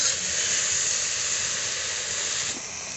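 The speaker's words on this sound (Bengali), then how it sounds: "এর সাথেই চিংড়ি মাছগুলো একটু ভেজে নিচ্ছি" Prawns frying in a pan with brinjal make a steady, loud sizzling hiss that continues evenly, easing slightly near the end, with no talk.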